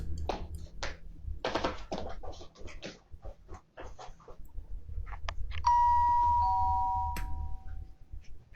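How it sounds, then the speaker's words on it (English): Quiet shuffling and taps, then a two-tone doorbell chime at a front door rings once and its tones ring out and fade over several seconds. "ringing the doorbell at 3 a.m."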